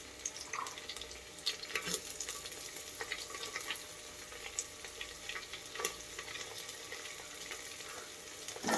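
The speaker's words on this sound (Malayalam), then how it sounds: "അപ്പോൾ ഇഞ്ചി ഇട്ടിട്ട് ഏകദേശം 1 മിനിറ്റിന് ശേഷം നമുക്ക് പച്ചമുളക് ഇതിലേക്ക് ഇട്ട് കൊടുക്കാം." Ginger and green chilies fry in a pan for a Kerala puliyinchi, giving a soft, continuous sizzle with occasional light stirring clicks and scrapes, quiet and close, with no talk.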